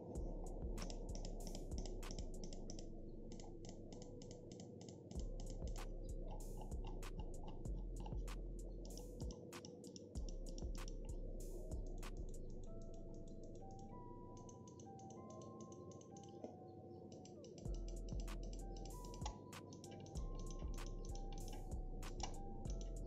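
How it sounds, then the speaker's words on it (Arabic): Repeated crisp clicks from the buttons of a HyperX Pulsefire Core gaming mouse with Omron switches, tapping in quick bursts with brief pauses, close and fairly quiet over a low steady background hum. "تعالوا بينا نسمع صوت الكليكات"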